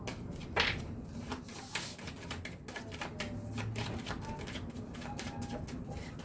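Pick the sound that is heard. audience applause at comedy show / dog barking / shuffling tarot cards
shuffling tarot cards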